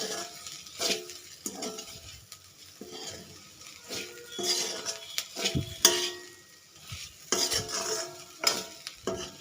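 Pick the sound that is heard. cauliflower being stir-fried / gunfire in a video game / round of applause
cauliflower being stir-fried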